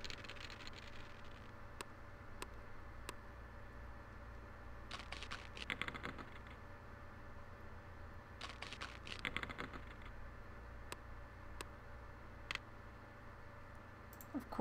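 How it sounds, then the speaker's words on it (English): Dice rattle inside a virtual canister in the Hoyle Official Book of Games computer game: clicky clattering bursts come around the middle and again a few seconds later, with a few isolated ticks over a steady low hum. "when they shake the dice, they have different sound effects depending on how many dice are still in the"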